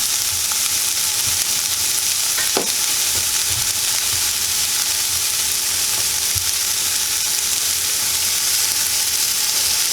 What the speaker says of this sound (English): So we're going to get the bacon frying up.